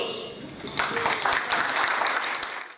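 An audience breaks into applause on a Danza TV dance-show stage as the Orán Jazz troupe is introduced; the clapping swells suddenly and holds steady, loud and close, with voices mixed in.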